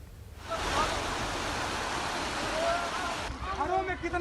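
The flooded Pandai river surging with a sudden strong swell, a loud steady rush of water that fades slightly at the end.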